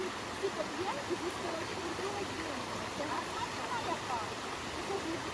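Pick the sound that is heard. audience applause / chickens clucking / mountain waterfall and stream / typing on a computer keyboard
mountain waterfall and stream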